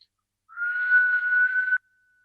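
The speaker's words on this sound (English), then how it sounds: "So when you see Naka or the Northern Lights, what you do is you whistle. Everybody whistle." A single clear whistle holds one steady tone for over a second, following a call for everyone to whistle at the Northern Lights, then cuts off cleanly in silence.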